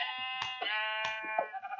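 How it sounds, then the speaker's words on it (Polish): A Minecraft sheep bleats in a few short, wavering cries close by. The sound is clear and isolated, with no talking over it. "Owce, patrzcie."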